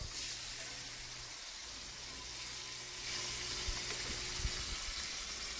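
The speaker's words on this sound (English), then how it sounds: "Now, get your spatula and flip them." Food fries in a hot pan with a steady, close sizzle, rising a little as it is flipped with a spatula, with a few soft scraping clicks near the end.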